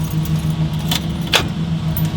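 Keys jangle near a truck's ignition as a key is turned to switch the truck on without starting the engine, steady vehicle hum underneath with a couple of bright metallic rattles.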